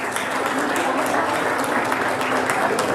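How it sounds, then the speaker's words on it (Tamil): An audience at a Tamil amateur drama performance gives the cast a big round of applause: continuous, even clapping from a crowd lasting about three seconds at a steady loudness. "அவங்களுக்கு ஒரு பெரிய கரகோஷம் கொடுத்துடலாம்"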